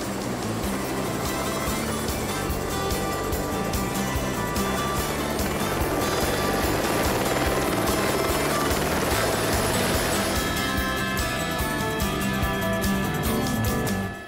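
A helicopter in flight gives a steady, loud rotor and engine drone with a rapid pulsing beat throughout, close and continuous, with a brief change in tone near the end.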